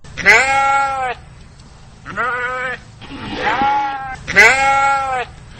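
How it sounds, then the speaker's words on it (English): Lambs bleating in a winery vineyard, several loud, quavering calls in close succession with short pauses between them, near and clear with no talk. "Instead, the job is done by 40 cute little woolly lambs."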